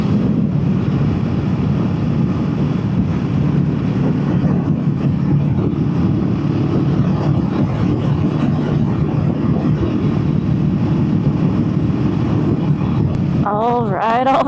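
A Honda Rebel 500 motorcycle with a modified stock exhaust, recorded while riding: a loud, continuous low engine rumble mixed with wind buffeting on the microphone, and a brief rising whine near the end.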